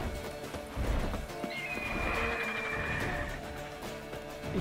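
Horses whinny in The Witcher 3 video game, a long drawn-out neigh rising over thudding hoof clip-clop and game sounds at moderate volume.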